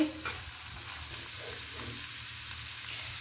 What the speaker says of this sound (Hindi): अब इन्हें अच्छी तरह जो है ये भूनेंगे, मिक्स करेंगे, और गाजर और जो है इसको चिकन के कीमे को फ्राई करेंगे